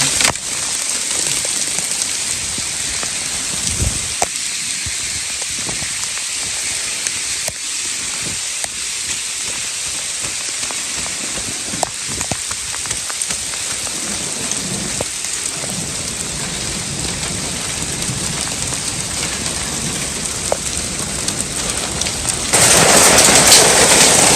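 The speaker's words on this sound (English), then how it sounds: "Crazy hailstorm right now." A hailstorm pounds steadily for a long stretch, with dense pelting on surfaces throughout and occasional sharper hits. It grows louder near the end, with no voices.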